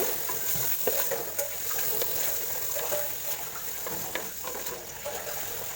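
Half a kilo of mutton pieces frying in a pan for a village-style mutton curry, giving a steady close sizzle with occasional stirring clicks and scrapes throughout, no talking.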